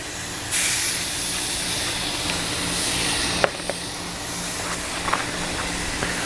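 Bison and regular burgers sizzling on a hot charcoal grill: a steady, close hiss of frying fat throughout, with occasional faint pops and crackles.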